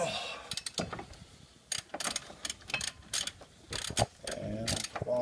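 A ratchet works loose the brake bracket bolts on a Cadillac DeVille front brake, making quick bursts of rapid clicking separated by short pauses, close and fairly faint.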